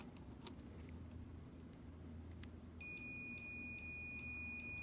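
Steady electronic beeping from the channels of an RC transmitter being set up for a Volvo EC160E model excavator, starting partway through as a continuous high tone over low background hum.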